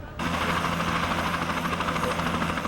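An aircraft engine runs before takeoff, starting abruptly and then holding a steady loud throbbing drone with a pulsing rhythm and a low hum, close and continuous for a few seconds.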